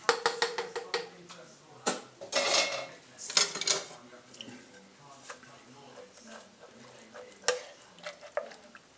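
A bowl and spoon clink and scrape repeatedly while white chilli is plated, with sharp ceramic knocks and soft stirring scrapes close by amid quiet kitchen sounds.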